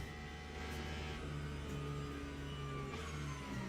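Porsche race car engine in a racing video game, a steady droning engine tone held at moderate revs with slight pitch shifts, playing alone without commentary.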